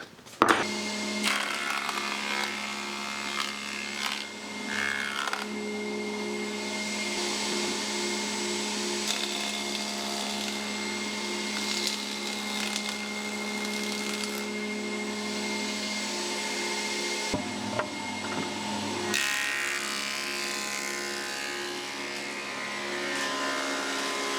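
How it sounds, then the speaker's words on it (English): A jointer planer thicknesser runs with a steady loud motor drone while wood boards are fed through, with cutting surges and brief dips as boards pass, close by in a workshop. "So just setting up my jointer planer thicknesser, and we start dimensioning these."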